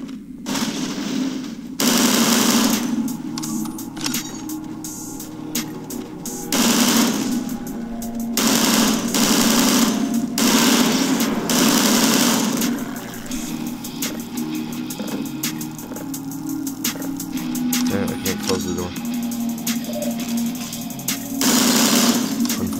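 Rapid automatic gunfire from a firearm in the video game Half-Life Entropy Zero, loud bursts recurring in several long strings with brief gaps, mechanical and close, with no talking over it.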